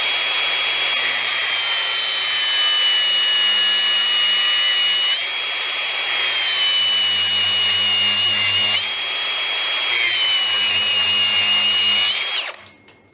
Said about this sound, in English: Right, 8mm with the angle grinder.